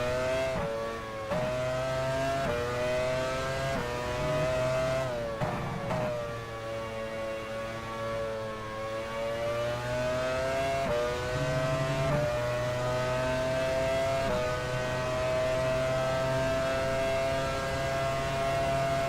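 Formula 1 race car engine in the game F1 Challenge 99-02 at a 1999 French Grand Prix, a steady high-revving whine held near top speed with a few brief gear-change dips, continuous and moderately loud.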